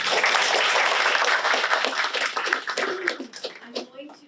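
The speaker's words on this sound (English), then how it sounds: "So let's please give them a great round of applause." An audience at a school Student of the Month event claps in steady applause that thins out and trails off into scattered individual claps, with some voices mixed in.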